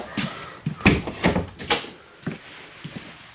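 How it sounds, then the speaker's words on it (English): An RV door on a Seismic 4125 toy hauler being pulled shut, giving several close, loud thunks and latch clatters in quick succession, with a few softer knocks trailing after. "close this door."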